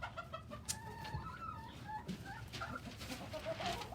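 Several chickens cluck and murmur nearby, soft overlapping calls scattered over a quiet background.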